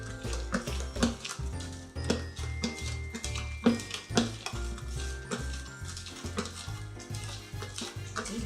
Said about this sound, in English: I like to mix as I go along, so everything's kind of blending properly.